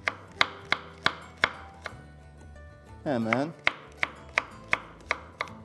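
A knife chops quince into small pieces on a board, with about a dozen crisp, evenly spaced strikes close by. A short voiced sound breaks in midway, and a brief word is spoken.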